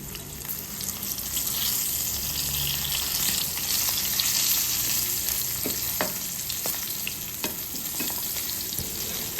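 Dried fish (buwad) fries in a hot pan, giving a loud, steady sizzle and crackle close up, with occasional sharp pops and scraping stirs over about nine seconds.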